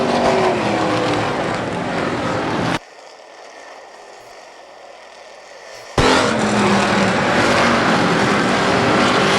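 Race cars in the 10th annual Amsoil Dominator Shootout roar steadily past at speed, loud and dense, then the sound cuts abruptly to a quiet hum for a few seconds before the full engine roar returns.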